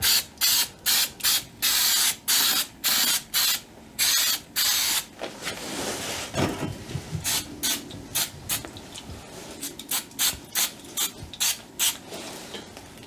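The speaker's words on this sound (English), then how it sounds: "like most of these adhesive sprays, you want to give it 30 seconds to get tacky" Adhesive spray is applied to an exhaust header shield in a series of short, sharp hissing bursts with brief gaps between them, close and loud, with quieter handling noises in the middle.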